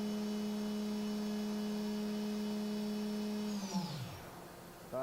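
Mori Seiki NV5000 vertical machining center spindle spinning at around 12,000 RPM, a loud steady tonal whine with strong harmonics that holds evenly, then winds down and drops away near the end before a brief new tone starts.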